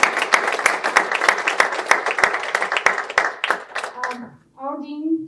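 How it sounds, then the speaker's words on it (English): Audience round of applause at a university entrepreneurship club pitch competition, steady loud clapping for about four seconds that quickly dies away before a speaker resumes talking. "Let's give him a round of applause."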